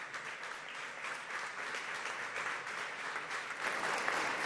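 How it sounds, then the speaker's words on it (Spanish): An audience at an inaugural ceremony applauds, sustained dense clapping from a crowd heard at a moderate distance, swelling slightly toward the end. "Fuerte el aplauso para ellos."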